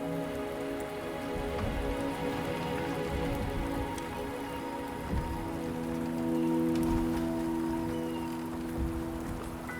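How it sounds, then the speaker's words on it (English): Rain pours in the video game Wuthering Waves: a continuous, moderately loud wash of drops on surfaces, with a low tonal hum beneath, no speech. "The rain is subsiding, and the sky will soon clear."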